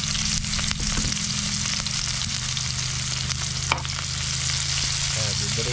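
Garlic, onion and chili sizzling steadily in a pan, a loud continuous frying hiss with occasional stirring scrapes, close up and without talk.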